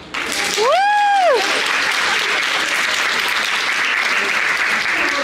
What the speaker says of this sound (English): So now you will clap.